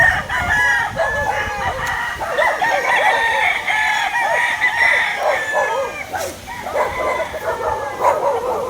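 A Classic White Kelso gamefowl rooster crows repeatedly at a game farm in Tanauan City, Batangas, loud and near, with hens clucking and dogs barking around it.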